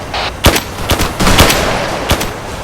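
Bursts of video-game machine-gun fire from a military mission, several sharp shots spread across a noisy, continuous background with no speech.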